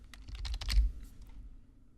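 Computer keyboard keys tapped in a quick burst of close clicks lasting about a second, then trailing off into quiet room tone, with no voices.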